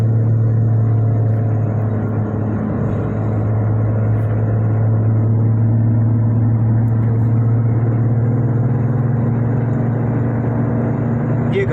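Car engaged in a police chase on Islamabad roads, a loud, steady engine and road rumble droning without a break throughout, heard up close from within the traffic.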